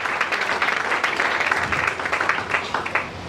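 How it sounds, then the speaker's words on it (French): A church congregation claps and cheers during a French-language deliverance sermon, a thick, continuous roar of hands and voices filling the room at steady volume. "Acclame très fort."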